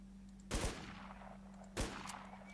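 Two loud, close single gunshots from an AK-74M rifle in a video game, spaced about a second apart, each with a sharp crack and a short ringing tail over a steady low background hum.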